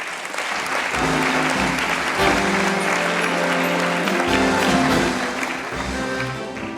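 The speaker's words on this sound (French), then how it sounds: "avier Dulin de Grand Chambéry, Lac Économie, qui vient nous rejoindre sur scène, sous vos applaudissements." Audience applause fills a stage hall at an anniversary evening in Savoie, a dense, steady clapping from a large crowd that swells and holds at a fairly loud level throughout, with no voices standing out.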